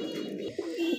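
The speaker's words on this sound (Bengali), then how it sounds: "আরো এক জোড়া শৌখিন কবুতর সিংহাসনে দাঁড়ায় আছে" A pair of fancy domestic pigeons coo softly and close, giving a few low throaty rolling calls in a quiet setting, with no talk.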